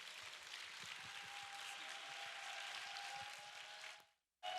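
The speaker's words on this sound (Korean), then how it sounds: "우리 큰 박수로 환영하겠습니다." A church youth congregation at a summer retreat claps to welcome a pastor, a soft, continuous patter of applause that cuts off abruptly near the end.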